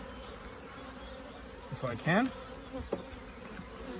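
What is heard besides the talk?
honeybees buzzing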